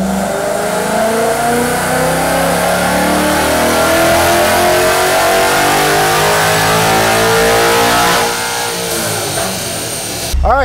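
A 2024 Ford Mustang accelerating hard in fourth gear, its engine revving loud and close in one long rising pull that climbs steadily toward the rev limiter before cutting off sharply near the end.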